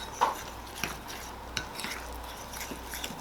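A fork stirs olive oil and dry ingredients for pizza dough in a bowl, giving soft scraping and occasional light clinks against the bowl under a steady low hum.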